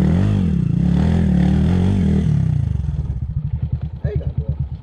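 A motorcycle revs hard on a muddy red-dirt mountain trail between Mt. Balagbag and Montalban, Rizal, its engine droning loud and steady, then pulsing in choppy bursts as it labors, with voices nearby.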